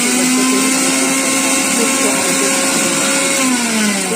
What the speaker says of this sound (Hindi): तो मैं पीस लेती हूँ अपने नए वाले मिक्सी में सारे मसाले को